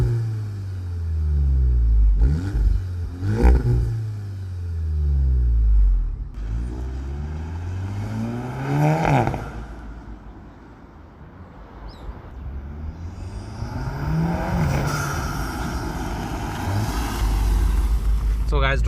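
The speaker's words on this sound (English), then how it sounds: "let's take a listen at the exhaust and experience how this car drives" VW Golf 7.5 R exhaust while driving, engine note rising and falling through several gear changes with a few sharp rev swells, steady road rumble underneath, and a voice talking over it.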